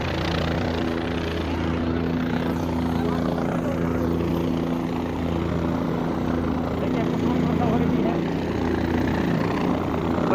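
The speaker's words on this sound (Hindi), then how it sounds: "जो आप तेज आवाज सुन रहे हैं हेलीकॉप्टर की" A helicopter's loud, steady rotor drone fills the scene as it prepares to take off from a family's home, with a voice talking over the continuous engine roar.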